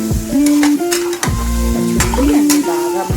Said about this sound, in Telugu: ఫ్రై చేసేస్తున్నానండి.